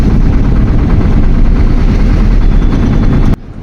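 A loud, heavy Isuzu 6WF1 diesel truck engine with faulty injectors runs with a rough low rumble and rapid fuel-knock pulses, then cuts off abruptly near the end.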